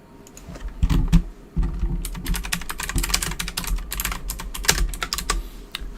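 A computer keyboard typed on rapidly and continuously, close and loud, with dense clicking keystrokes, a few heavier thumps and no talking over it.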